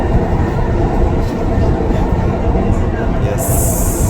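A metro train runs past at close range, a loud, continuous rumbling roar of wheels and motors that holds steady, with a brighter hiss rising near the end.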